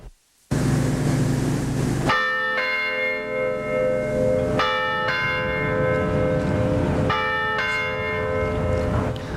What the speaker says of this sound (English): The bell at Virginia's Cathedral of St. Thomas More tolls 32 times